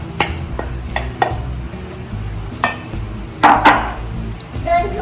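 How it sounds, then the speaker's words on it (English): A utensil clinks and scrapes against a bowl while durian meat is mixed with fresh milk, egg yolks and vanilla extract, irregular close stirring knocks with a few louder clatters, with no talking. "We just have to combine the durian meat."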